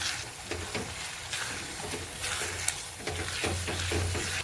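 Chopped carrots, about 200 grams, tipped into a hot frying pan for a vegetable shaak, hissing in a continuous close sizzle with bursts of stirring and scraping against the pan, no voices.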